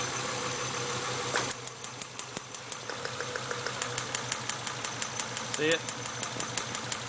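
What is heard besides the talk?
1996 Acura TL 2.5L engine idling with misfire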